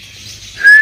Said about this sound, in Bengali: এই ময়না পাখি